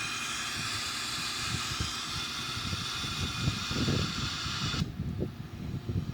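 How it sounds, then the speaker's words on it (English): An Airbus A340 jet engine starts and spins up, a rising whine and broad hiss layered with rumbling, fluttering low pulses that grow more turbulent, then the high hiss abruptly drops away. "see the engine start over here, spinning up"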